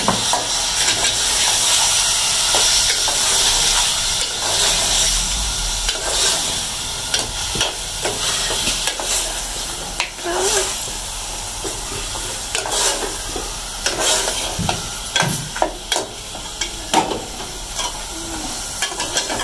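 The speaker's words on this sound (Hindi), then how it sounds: "अब हम इसमें कीमा डालेंगे। आज हम बना रहे हैं बीफ का कीमा।" Beef keema mince fries in a pan with onion and ginger-garlic paste, a loud continuous sizzle and hiss broken by spatula stirs and clinks, close and without speech.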